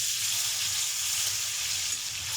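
Chicken thighs sizzling steadily in hot oil in a pan, a continuous close crackle and hiss with no pauses and no voices.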